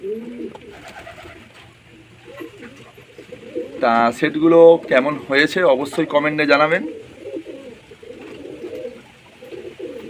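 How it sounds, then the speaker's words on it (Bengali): Kalpeti and Madras pigeons coo in a burst of soft, throaty calls near the middle, while someone talks close by almost throughout. "এটা হচ্ছে কালপেটি পায়রা ম্যাড্রাস পায়রা"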